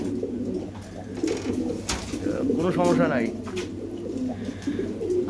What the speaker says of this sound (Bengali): অনেক কবুতর আছে ভাই, অনেক কবুতর আছে